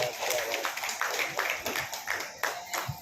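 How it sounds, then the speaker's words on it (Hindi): An audience claps as judges are called up on stage at a grand launch event, a steady wash of applause with a person talking over it. "जोरदार तालियां होनी चाहिए"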